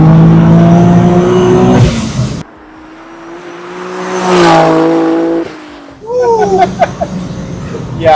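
Boosted 500-plus wheel-horsepower Nissan 350Z HR accelerating hard in second gear, a loud rising engine roar that drops off at a shift, then builds again with turbo whine and close revving, under brief shouted voices.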